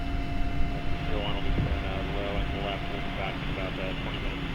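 A TF-104 Starfighter jet in a flight simulator takes off, its engine a steady broad roar with a faint whine, while a voice talks over it throughout.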